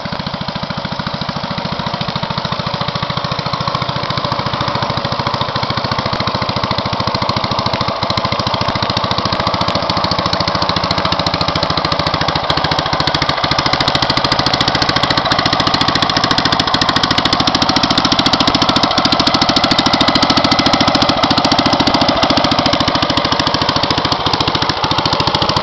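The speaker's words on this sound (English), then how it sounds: "We're going to have a look at my Mayfield pedestrian tractor with plough." A Mayfield pedestrian tractor fitted with a Villiers MK 25 engine, hitched to a plough, runs steadily close by with a loud, continuous rapid chugging rattle that holds even throughout, no voices over it.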